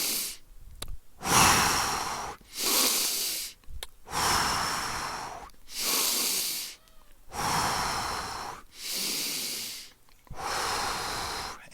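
Deep, forceful breaths during a breathwork practice, heard close and loud as a steady rhythm of long hissing inhales and exhales separated by brief pauses, with no speech.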